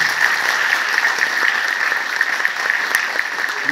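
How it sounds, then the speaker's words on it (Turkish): Loud, steady applause for children at a school event, a dense crowd clapping evenly and continuously with no talk over it. "Çocuklara şöyle kuvvetli bir alkış alalım."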